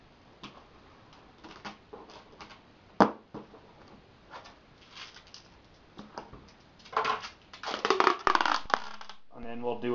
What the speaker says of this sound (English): we'll put a good old bead of tape along it, just to make sure she's good and sealed